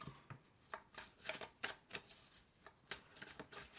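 Tarot cards are shuffled in short, crisp bursts of riffling and snapping, quiet and close, with brief pauses between them.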